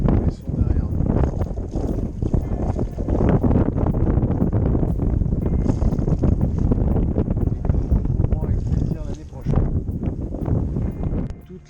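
Strong wind roars steadily across the microphone aboard a sailboat sailing close-hauled at about 10 knots with gusts to 13, leaving Pollença bay in Mallorca, loud and continuous with gusty swells.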